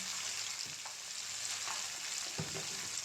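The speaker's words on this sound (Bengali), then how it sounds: "দিয়ে ভালো করে মশলাটা ভাজতে হবে।" Ground cumin and coriander with salt and chilli frying in a pan, a steady close sizzle with a few soft stirring knocks and scrapes throughout.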